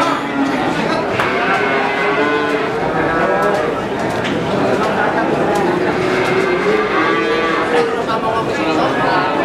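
Young Friesian Holstein dairy calves moo repeatedly at the Boyolali cattle market in Indonesia, loud and overlapping, over a busy background of crowd chatter and people talking.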